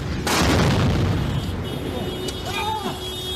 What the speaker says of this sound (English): Right over here, another airstrike.